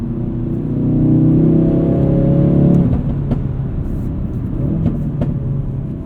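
A modified Ford Focus RS engine pulls hard in sport mode, its rising drone building over a few seconds before a gear change, then climbing again with pops and crackles, heard close from inside the car.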